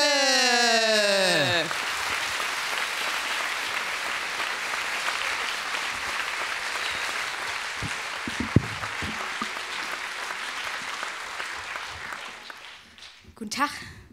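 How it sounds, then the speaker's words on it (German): Sustained applause from a large poetry slam audience welcoming a performer on stage, steady and dense clapping that fills the space, fading out near the end after a short musical sting at the start. "Klatscht sie bitte auf die Bühne, hier ist Ninia La Grande!"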